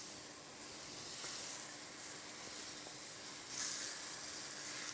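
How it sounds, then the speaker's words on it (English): Steady soft sizzling hiss of peaches caramelizing on a hot barbecue grill, continuous and close, with no talking. "You can hear that lovely sizzling sound."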